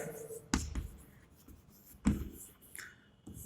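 Someone writes on a classroom board during a physics lesson on electricity: scratchy strokes with a few sharper taps, fairly close and quiet, with no talking.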